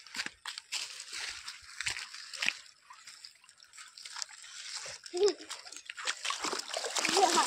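Water splashes on a path leading to a river, with irregular nearby sloshes and drips, one louder splash partway through, and the sound of wading growing busier toward the end.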